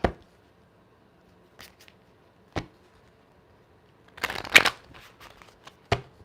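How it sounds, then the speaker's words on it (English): Tarot cards are shuffled in a few separate bursts: sharp riffling flutters and soft slaps close to the listener, with quiet pauses between them. "so we'll shuffle that"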